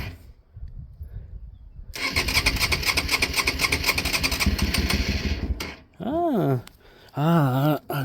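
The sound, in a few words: Honda Varadero motorcycle engine starting and idling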